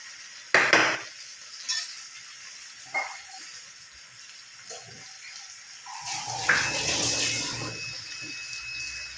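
Water is poured into a pan of cooking eggplant for a spiced mashed eggplant dish. A few sharp clatters come first, then a loud, steady hissing sizzle and splash rises and continues to the end.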